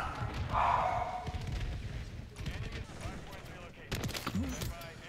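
Video-game gunfire from hip-fire shots sounds in a few sharp bursts, with a louder cluster near the end, mixed with game effects and a person talking over it.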